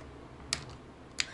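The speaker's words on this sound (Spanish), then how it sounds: "El clic nos dice ya estoy adentro." A plastic hand upgrade part for a Transformers Soundwave Masterpiece toy figure snaps into place, giving two sharp, close clicks about two-thirds of a second apart over quiet room noise.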